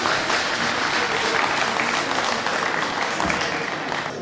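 Applause from an audience at a cultural day event in Val-de-Marne, dense and steady, filling the room for several seconds without a break.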